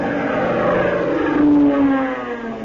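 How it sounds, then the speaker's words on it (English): A propeller airplane drones overhead in a wartime jungle radio drama, a steady engine hum swelling in the middle and then easing off, with no talk. "Hey, look. It's one of our planes."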